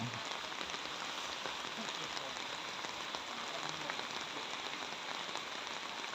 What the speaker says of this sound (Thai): วันนี้ฝนตกทั้งวัน